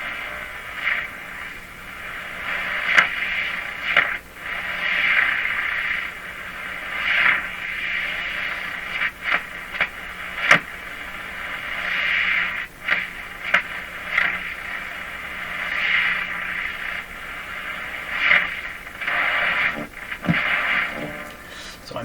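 A French AM station comes in on a Grundig 2030 tube radio, its distant broadcast audio hissing and fading under static with sudden crackles, the strong signal pumping in level as the set's automatic volume control acts.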